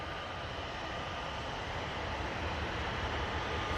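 Steady, broadband jet roar of an Airbus A320neo airliner from Munich at Manchester Airport, a continuous even rush filling the whole stretch without talk.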